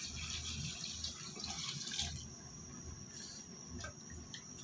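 Water pours steadily into a pot of beef for stewing, a continuous close splashing flow with a faint background hum.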